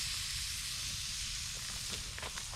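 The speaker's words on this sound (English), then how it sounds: "well, there's the sizzle." Meat sizzling over a backpacking campfire at a campsite, a faint, steady hiss with a few soft crackles and pops near the end.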